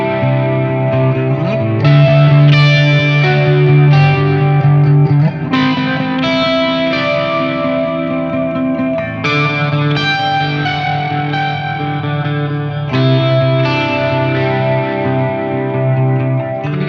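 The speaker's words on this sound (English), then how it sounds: "Then I'll play a part that utilizes the full neck of the guitar to see how the guitar sounds and intonates in all registers." A Collings I-35 LCV electric guitar is played up and down the full neck through effects with chorus and distortion, a steady run of sustained, ringing notes and chords, alone and close.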